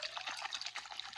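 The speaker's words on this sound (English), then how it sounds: "You pour it on your feet." Cartoon Sonic Tonic liquid being poured onto feet, a brief, close, bright splashing trickle of water lasting about a second.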